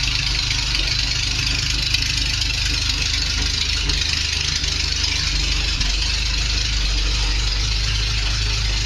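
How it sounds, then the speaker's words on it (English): A loud Triumph TR6 engine idles steadily without a muffler, a harsh, throbbing low rumble with no letup, close by. "I'm going to run the car. It's going to be loud"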